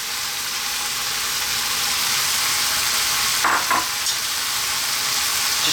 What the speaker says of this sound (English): Try and really fry the rice.